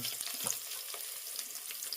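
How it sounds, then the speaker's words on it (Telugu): Chopped onions, carrots and chillies sizzle steadily in hot oil in a heated pan while an Andhra-style potato biryani is made, with a close, even crackle and faint stirring scrapes and no voices. "గిన్నె బాగా వేడెక్కగానే అందులోకి ఓ రెండు టేబుల్ స్పూన్ల ఆయిల్ వేసేసేసి ముందుగానే మనం కట్ చేసుకున్న ఆనియన్స్ క్యారెట్ మిరపకాయలు అయితే వేసేయండి"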